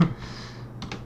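Brief burst of typing on a computer keyboard, a few faint clicks at the start and a quick pair of keystrokes near the end in a quiet room.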